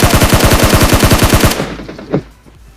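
Rapid automatic gunfire in a Hindi-commentated shooter video game, about fifteen evenly spaced loud shots in a fast burst that cuts off, followed by a single sharper report and fading echoes.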